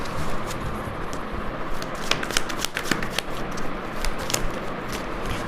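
Tarot cards are shuffled by hand in a continuous, close, papery riffling and flicking with sharp crackles scattered through, and no talking.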